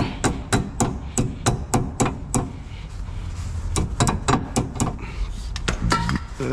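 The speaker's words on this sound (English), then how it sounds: "Take your hammer, tap it down." Sharp metallic hammer taps ring out close up in quick bursts, tapping a cotter pin down during front hub bearing work on a 2014-2020 Nissan Rogue: a run of strikes, a short pause, then another volley of taps.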